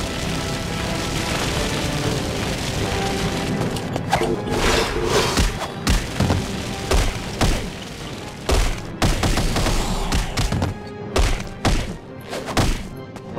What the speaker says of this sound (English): Oh, grenades!